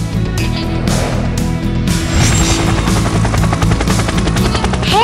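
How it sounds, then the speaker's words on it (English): A helicopter flies steadily and loudly, its rotor chop and engine whine constant and close, with no voices. "I am a helicopter. I can fly and hover in the sky."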